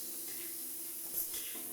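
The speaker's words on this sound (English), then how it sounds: "we'll spray again here." A Sames Cyclomix Micro airspray gun sprays catalyzed coating in one steady, close, even hiss lasting under two seconds.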